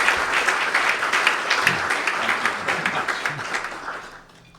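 An audience at a lecture on Amazon research claps to welcome a speaker, a dense, even roar of applause that holds steady and then tapers off at the end.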